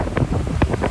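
Shore break waves on the beach at Delray during big wind, heard as a rough, close roar of surf mixed with heavy wind buffeting the microphone, loud and steady with no talking.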